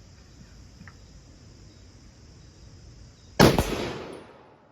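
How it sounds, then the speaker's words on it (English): One loud, sharp rifle shot from a Remington 742 semi-automatic in .30-06 fired outdoors, a sudden blast with a rolling echo fading afterward over steady insect chirring. "It fires fine as a single shot."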